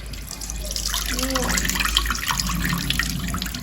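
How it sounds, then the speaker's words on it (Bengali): Water drains and trickles steadily from freshly washed pumpkin ingredients hung up to drip in a village kitchen, a continuous close wet patter with a voice talking faintly over it. "এখন এটা রান্নাঘরে বেঁধে রাখা হচ্ছে জল ঝরানোর জন্য"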